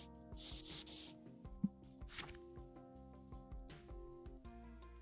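An airbrush sprays paint onto a model kit in short hissing bursts, several separate sprays with quiet gaps between them, close and fairly soft over a faint background hum.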